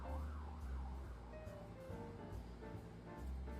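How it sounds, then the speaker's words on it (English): A siren wails over a low rumble of traffic, rising and falling steadily and sounding moderately distant, with no voices. "Ambulance noise."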